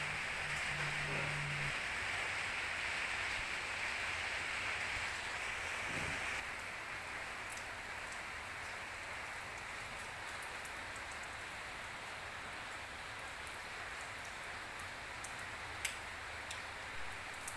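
Rain falling steadily all day, a faint, even hiss with occasional light ticks and drips, distant and continuous without speech.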